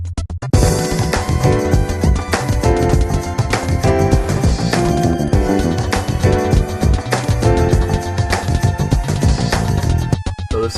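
Smooth jazz lounge music plays loud and continuous, with a busy, dense mix of instruments over a steady groove and no voices.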